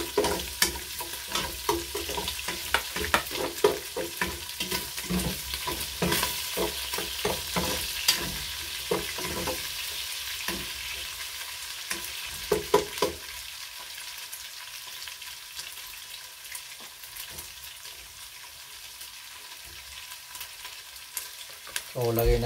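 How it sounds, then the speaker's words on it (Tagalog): Garlic frying and browning in a hot pan, a close, continuous crackling sizzle with frequent stirring clatter that thins out and quiets over the second half. "Guys, lagay na natin tong bawang. Brownin lang din natin ng konti guys."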